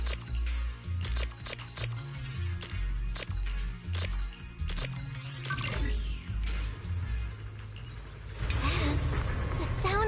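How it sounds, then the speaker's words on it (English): Video game factory machinery at work, clanking mechanical thuds and rhythmic pulses with whirring sweeps and a rising grind near the end, moderately loud throughout. "That's the sound of machinery."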